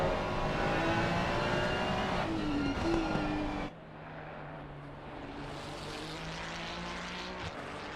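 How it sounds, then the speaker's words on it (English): Simulated GT3 race cars in Assetto Corsa Competizione at the Nürburgring, a steady loud engine drone with whining tones shifting in pitch, dropping to a quieter idling hum partway through. "So we are back with the race cars"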